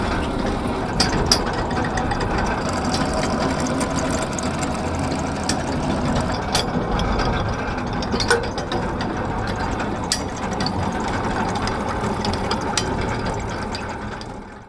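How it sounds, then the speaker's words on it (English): An anchor windlass aboard a ship heaves up the anchor, making a steady, loud mechanical clatter of chain and gears that runs without a break, with no talk over it. "Okay, heave the anchor please. Heave up the anchor."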